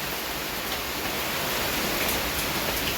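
Heavy monsoon rain pours down in Rajkot as a steady, dense hiss, loud and unbroken throughout with no voices.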